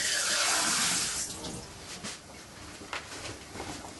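Clean tap water runs in a steady, close rushing stream for mixing with PVA glue during taxidermy work on a brown trout. It is loudest at first, then settles into a softer trickle and splash.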